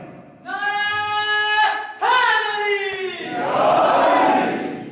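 Crowd at a majlis in an imambargah raising a slogan, a leader's drawn-out call answered by a loud, massed roar of voices.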